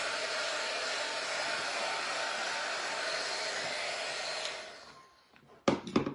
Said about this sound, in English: I got that new dryer because my other one wasn't heating as good anymore